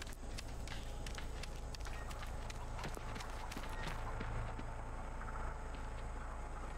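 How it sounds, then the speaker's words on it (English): Footsteps in The Texas Chain Saw Massacre video game, quick running steps heard faintly under a steady loud background rumble, with no pause throughout. "Why did I hear footsteps?"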